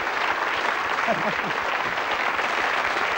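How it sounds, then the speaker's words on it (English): A 1984 television game show studio audience applauds, steady dense clapping throughout with a brief voice rising over it. "Well, give him a round of applause."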